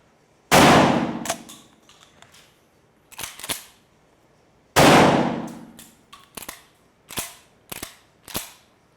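A Citadel Bosshog semiautomatic shotgun fires 3-inch shells outdoors: two loud, booming shots about four seconds apart, each followed by sharp metallic clacks and clicks of the action cycling and handling.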